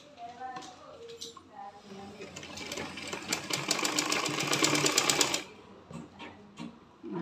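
Sewing machine stitching a folded half to three-quarter inch hem, a fast rattling run of needle strokes in the middle, with quieter starts and stops around it and someone speaking softly.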